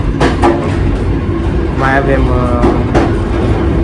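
A passenger train runs on the rails between Teiuș and Războieni along the Mureș corridor, giving a steady close rumble with faint clatter throughout while someone talks over it.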